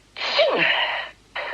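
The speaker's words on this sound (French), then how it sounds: "T'as éternué." A single sharp sneeze bursts out close and loud, followed by a brief pause and the start of another breathy sound.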